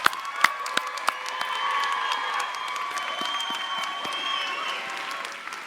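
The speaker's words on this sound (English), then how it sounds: "Let's have one more round of applause for all these graduates in front of us." Audience applause for nursing graduates at a convocation ceremony, a steady, full round of clapping with scattered cheers and whoops from a large crowd throughout.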